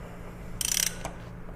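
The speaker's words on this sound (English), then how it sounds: "you put the 17 millimeter socket in, you rotate this thing counterclockwise." A 17 mm socket on a ratchet turns a Honda XR650L engine counterclockwise, giving a short burst of quick clicking with a faint click after it, close and alone.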